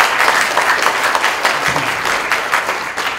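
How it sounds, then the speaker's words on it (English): An audience at a games industry debate event breaks into a round of applause, a dense, steady clatter of many hands clapping close and loud throughout, with no talk over it. "can we have a round of applause, please?"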